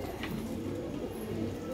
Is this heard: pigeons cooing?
yes